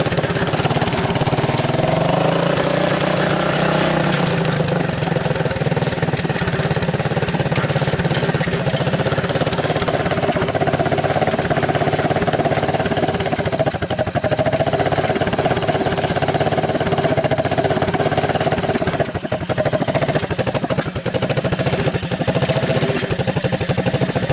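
A Honda ATC185S three-wheeler engine runs on choke, a loud continuous rough idle with steady mechanical clatter, close to the microphone and without talk.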